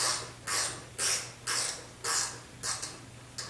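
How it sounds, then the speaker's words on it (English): A hand wrench works the gas tank bolts loose on a 1976 Corvette, giving a steady series of about seven close, crisp ratcheting strokes at an even pace. "I'm doing this with manual wrenches"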